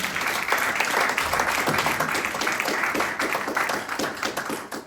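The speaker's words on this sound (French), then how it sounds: "Est-ce qu'on peut acclamer pour Jésus?" A church congregation applauding and cheering for Jesus, dense, steady clapping from a large crowd with scattered cheers, sustained and loud throughout.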